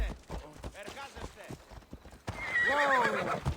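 A horse in the Assassin's Creed Odyssey video game gives a loud, shrill whinny after a run of clip-clopping hooves, while a person talks over the game sound.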